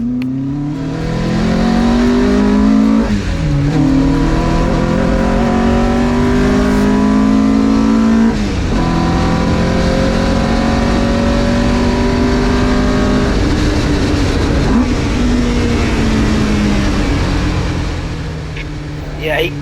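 Marcos race car at Donington, its engine loud and close as it brakes hard and then accelerates, with downshifts and upshifts sweeping the pitch up and down repeatedly while a driver talks over it.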